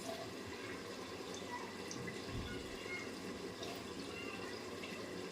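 Water pours into a cooking pot of chicken kurma, a soft, faint, continuous splashing and trickling that swells briefly midway, with no talking.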